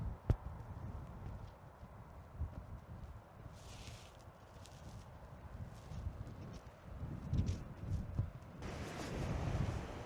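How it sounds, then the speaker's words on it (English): Strong wind at Glenbrittle Beach batters the microphone with a constant low rumble and irregular gusty thumps, rising toward the end, with occasional faint higher rustles and a sharp knock near the start. "The wind is killing us here."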